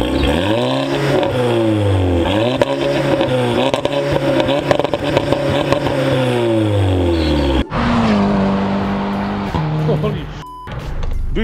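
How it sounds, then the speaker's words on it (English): A Volkswagen Golf R with a DSG gearbox roars past at speed on an open road, engine revving hard with a rising then falling pitch as it flies by, loud and close, ending in a sharp drop to quieter road noise. "it was a proper fast flyby"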